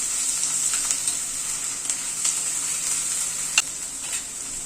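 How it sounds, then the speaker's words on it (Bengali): Garlic paste and onion fry in a pan with a steady, bright sizzle, close and even throughout, with a stir and a light clink near the end. "রসুনটা দিয়ে আবার একটু পেঁয়াজের সাথে ভেজে নিচ্ছি।"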